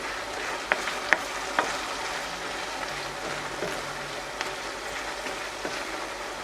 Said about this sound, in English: just give it a good mix around